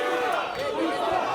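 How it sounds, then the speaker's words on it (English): A boxing crowd at a fifth-round bout chants and roars in support of fighter Musa Khan, a sustained dense wash of voices filling the venue. "the chants coming from the crowd"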